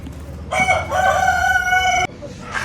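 A desi (native breed) rooster crows loudly and close by, one long strained call lasting about a second and a half, with faint background noise around it.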